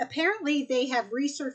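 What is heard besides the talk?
No everyday noise stands out behind the speech.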